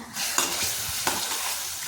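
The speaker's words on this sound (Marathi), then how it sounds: "टोमॅटोच्या प्युरीलाही तेलामध्ये चांगल्या प्रकारे परतून घेत आहे" Tomato and onion puree sizzles and sautés in hot oil for a restaurant-style paneer butter masala, with a continuous frying hiss and a couple of stirring scrapes against the pan.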